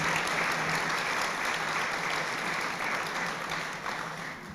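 A room full of people applauds at a guide dog class graduation, dense even clapping that stays steady and fairly loud before tapering slightly at the end, with no speech over it.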